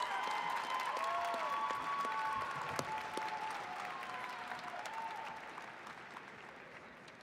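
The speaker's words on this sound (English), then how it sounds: "Please join me in a round of applause for the graduates" A large graduation ceremony crowd applauds, a dense wash of clapping that holds steady before gradually thinning and fading toward the end.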